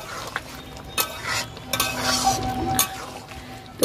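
Large fried prawns are stirred with a metal spoon into simmering jackfruit curry, giving a soft bubbling sizzle broken by several sharp clinks and scrapes against the pot.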